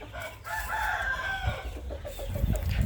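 A rooster crows nearby in a long rising call, followed by a run of Burmese chickens clucking in short repeated notes against outdoor background noise.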